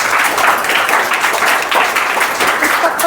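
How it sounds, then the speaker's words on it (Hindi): Audience applause at an Independence Day (15 August) school-style gathering, a steady dense clapping wash lasting the whole moment, loud and close with no pauses. "आप सभी के लिए तालियां हो जाए एक बार"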